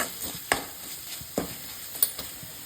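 Egg keema frying with turmeric, salt and pepper in a pan, a soft steady sizzle broken by three sharp stirring scrapes and clicks of a spoon against the metal, close and fairly quiet with no voices.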